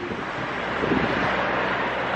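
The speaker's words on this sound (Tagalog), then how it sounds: "Ang lakas ng hangin." Strong wind blows steadily at a school during break time, a loud, continuous broadband rush with slight gusting swells and no voices.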